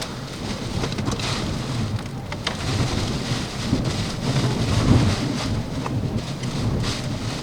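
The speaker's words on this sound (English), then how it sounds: "we by far saw stronger wind gusts in the following 10-15 minutes" During the 2020 Iowa derecho, strong wind gusts roar steadily and buffet the microphone in a dense, rumbling wash. The storm swells and eases slightly throughout and no voices are heard.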